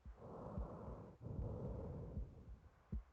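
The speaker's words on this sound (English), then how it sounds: "you can hear some breathing, some really deep breathing, and a heartbeat" Deep, slow breathing in the Silent Hill 2 video game, a continuous low rumbling wash with a few soft thumps that may be the heartbeat, steady and close with no talking.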